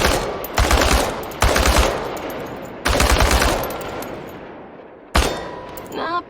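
Automatic gunfire from target practice at tin cans in the game Chernobylite: several loud, sharp bursts of rapid shots with echoing tails, separated by short pauses, the last burst trailing off near the end.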